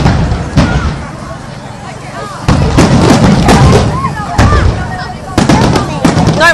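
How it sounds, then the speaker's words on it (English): Fireworks over Bournemouth beach crack and boom in loud bursts, several close together, over a constant roar of crowd noise, with people talking nearby. "watch the fireworks"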